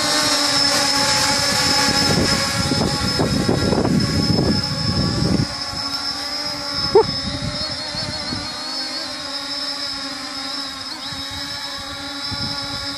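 A Ghost drone hovering outdoors in roughly 15 mph winds produces a loud, steady high-pitched motor whine, with gusty wind rumble buffeting it for the first several seconds before easing.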